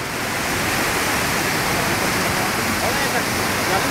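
A stream rushes in a continuous, dense wash of water noise, close and loud, steady throughout with no pauses.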